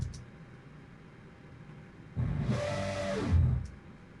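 A synthesized dragon roar built from filtered noise, its filter swept by automation, surges in abruptly after two seconds of near silence, holds as a loud, wide roar and swells near the end before cutting off.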